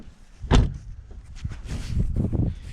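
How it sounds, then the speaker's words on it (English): A run-down, recently repaired car door is handled: a sharp thud early on, then a series of creaks and duller knocks as it swings and shuts. "I can open and close my door now."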